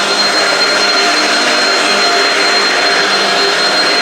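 Shark vacuum cleaner running steadily on carpet, a loud continuous whirring drone with no pauses and no talk.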